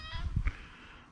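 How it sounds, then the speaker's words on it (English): A fluffy pet cat gives a short meow close by, followed by quiet, with no talk. "You're a nice cat. You're very fluffy."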